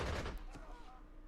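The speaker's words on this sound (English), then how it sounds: "Let's do some strafing again with our fighters." Fighter planes strafing ground targets with gunfire in the strategy game Panzer Corps 2, set in the Spanish Civil War: a loud, dense burst of rapid shots at the start that quickly trails off into a lingering rumble.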